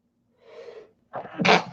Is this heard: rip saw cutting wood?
no